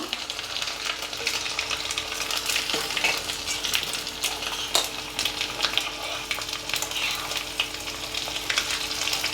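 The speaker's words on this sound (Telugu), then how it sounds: "నూనె కాగింది ఇవన్నీ వేసేద్దాం వెల్లుల్లిపాయలు దంచుకొని పెట్టుకున్నాను" Crushed garlic fries in hot oil alongside curry leaves, giving a dense, steady close sizzle with scattered crackles and pops throughout and no talking.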